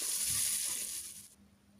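Onions frying lightly in oil for a winter mixed vegetable khichuri, giving a steady close hiss that fades out partway through.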